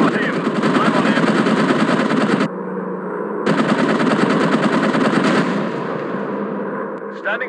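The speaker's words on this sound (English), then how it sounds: "He's firing at me." Rapid machine gun fire from a WW1 warplane in the video game Warplanes: WW1 Sky Aces, loud and sustained in long bursts with a short pause, engine drone underneath.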